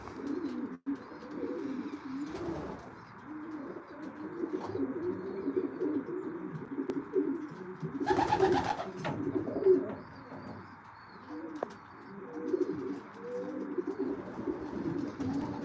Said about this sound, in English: I hear you have pigeons, Mitzi's son. Are they racing pigeons?